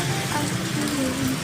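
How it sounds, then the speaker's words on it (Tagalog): Steady rain patters continuously on a surface, a dense, even hiss without pauses. "Unang ulan ng May, guys."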